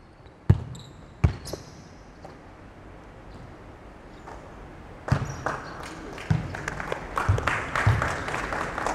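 On an indoor basketball court, a ball bounces a few times with sharp thuds. Scattered applause then breaks out and builds into several seconds of clapping from a small group.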